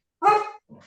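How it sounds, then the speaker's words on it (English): A dog barks once, loud and fairly close, then gives a softer short follow-up, heard in the background of an interview with no talk over it. "apologies for the dog barking in the background."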